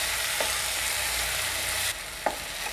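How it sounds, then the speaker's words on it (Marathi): Tomatoes being stirred in a hot pan with a little salt for chicken kheema: a steady close sizzle, with a couple of soft scraping stirs near the end, and no voices. "मिक्स करून घेऊया चांगला टोमॅटो."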